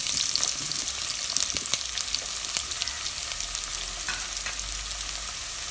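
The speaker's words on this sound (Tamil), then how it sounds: "இப்போ நம்ம கட் பண்ணி வச்சுருக்கக்கூடிய வெங்காயத்தை இதில் சேர்த்துடலாம்" Chopped onions fry in oil for a vegetable kurma, giving a bright, constant close sizzle with fine crackles throughout and no voices.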